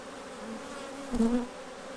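A low, steady hum of bees buzzing close by, with one louder bee passing near the middle.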